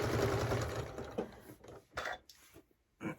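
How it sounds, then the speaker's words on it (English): Sewing machine stitching a lined drawstring mini backpack, with a steady whirring run in the first second and a half, then short separate bursts of stitching with pauses between them, close and moderately loud. "So I'm just going to keep sewing until I get to the top here, and then I'll stop."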